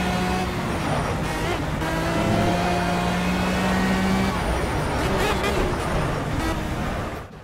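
A Honda car climbing an uphill road, its engine drone steady and loud close by as it accelerates, then eases off for brief braking, with a faint whining tone riding over the continuous rumble.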